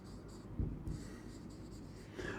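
Marker or chalk strokes on a classroom board while a word is written, soft scratchy scrapes with a couple of light taps, close and fairly quiet, with no talking.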